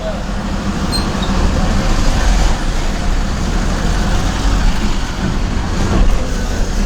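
A bus among road traffic makes a loud, continuous rumble with a deep engine drone and wash of passing-vehicle noise that never lets up.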